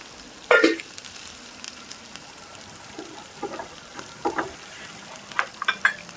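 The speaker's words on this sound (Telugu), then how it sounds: "దీన్ని ఇంకొంచెం ఒక 2 minutes ఉంచితే మంచిగా వేగుద్ది" Carrots frying in a pan for a carrot egg fry, a soft steady sizzle with a few louder stirring scrapes and clatters, close and without speech.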